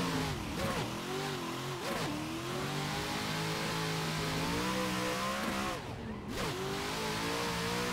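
Video game car engine revving hard through a drift, rising and falling in steady waves with brief dips, loud and close throughout.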